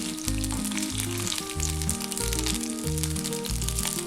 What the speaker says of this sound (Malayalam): ഇപ്പോൾ മീൻ 2 വശവും മൂത്തിട്ടുണ്ട്. ഇനി ഇത് എണ്ണയിൽ നിന്ന് മാറ്റാം.